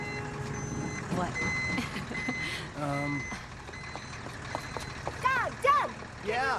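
A car in a residential driveway setting gives a steady series of reversing beeps while backing up. The beeps sit under people talking, with other outdoor ambient noise around them.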